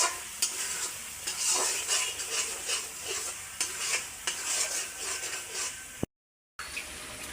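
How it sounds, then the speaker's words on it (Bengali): Spice paste for a pangas fish curry sautéed in a pan, with steady sizzling and repeated scraping stir strokes close by, then a brief cut to silence near the end. "মশলাটা বেশ কিছুক্ষণ কষিয়ে নিতে হবে আর কি অনেকক্ষণ ধরেই কষাতে হবে মশলাটা"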